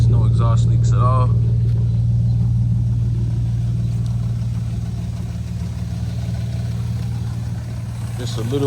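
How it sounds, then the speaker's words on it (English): A Lexus GS300 engine with catless headers and a Vibrant muffler idles steadily nearby with a low, even hum and light valve-train clatter over the rumble. "Just a little bit of noise from the valve train, which isn't bad at all."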